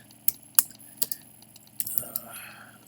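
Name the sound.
typing on a computer keyboard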